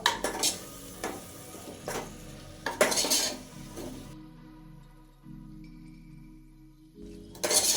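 Paneer biryani being stirred in a pot, with repeated metal spoon scrapes and clinks over a low sizzle, then a short quiet stretch before one more scrape.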